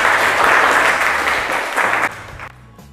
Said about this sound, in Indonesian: Tepuk tangan dulu buat Cika.